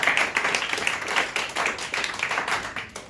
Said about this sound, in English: I want to give yourselves like a round of applause